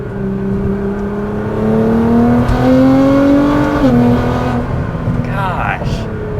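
A 700 HP R35 Nissan GT-R engine revs up through rising gears, loud and close, with a smooth climbing whine that shifts pitch as it accelerates.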